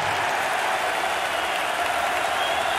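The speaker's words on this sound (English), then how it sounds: "with a score, this crowd is going to go nuts, Dick." Broadband crowd roar filling an arena during a college basketball game in NCAA 08 March Madness, a steady loud wash of cheering with no breaks throughout.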